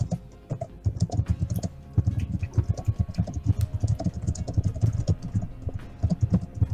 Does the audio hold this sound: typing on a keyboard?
yes